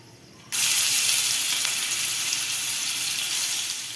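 Whole spices for a vegetable biryani hit hot oil with a sudden loud hiss, then sizzle and splutter steadily and close up without a break.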